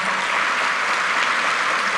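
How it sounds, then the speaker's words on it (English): Conference audience at a fintech festival gives a round of applause, a dense, even wash of clapping that holds steady and fills the hall without any voices. "First of all, I would like you to give a round of applause."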